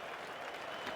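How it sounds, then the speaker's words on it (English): A large cricket crowd at a Test match between Australia and England starts clapping, a dense distant wash of applause spread evenly through one second. "You can hear them starting to clap."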